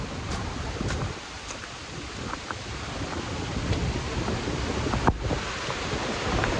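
Steady roar of rushing water at the Nanamenachi Waterfall, a broad dense wash with wind buffeting the microphone, continuous and fairly loud throughout, no talk.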